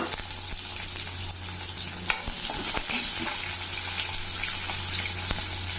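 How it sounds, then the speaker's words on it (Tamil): Small shallots fry in hot oil in a pan, a steady close sizzle with occasional stirring scrapes and light clatter of a utensil against the pan running throughout. "அதே இதில் இன்னும் கொஞ்சம் எண்ணெய் ஊற்றி இப்போ சின்ன வெங்காயம்"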